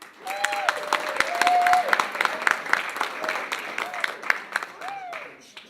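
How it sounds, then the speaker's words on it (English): An audience at an evening community event applauds its volunteers, the clapping rising into a full crowd round and then thinning into scattered claps, with voices and whoops mixed in throughout. "So a round of applause to them."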